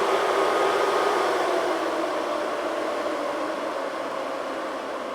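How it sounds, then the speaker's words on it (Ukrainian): A loud manicure dust extractor runs continuously, giving a steady hissing, fan-like rush that fades very slightly over the seconds, with no voices over it. "Ця витяжка дуже гучна, її прям треба перекрикувати, щоб щось було чути."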